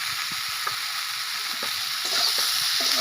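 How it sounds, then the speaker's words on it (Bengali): Hilsa fish curry with salt just added, stirred in a frying pan: a steady hiss of sizzling oil with scattered clinks and scrapes of a spatula against the pan, no talking. "লবণটা দিয়ে ভালো করে নাড়াচাড়া করে নিতে হবে।"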